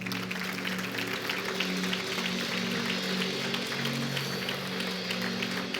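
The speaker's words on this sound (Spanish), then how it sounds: "Vamos a darles un aplauso" A church congregation claps steadily and continuously throughout, a full room of applause layered over a low sustained hum.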